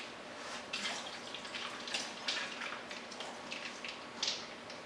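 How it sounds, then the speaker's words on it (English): Water trickling and splashing in short bursts, close by, as water is drained and squeezed out of a tofu package. "when you open it, you will want to first drain out the water"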